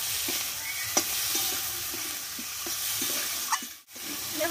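Tomatoes and coriander leaves stirred and fried in a pan for a Bengali-style tomato mash, giving a steady low sizzle with soft scraping stir strokes repeating throughout, close and alone.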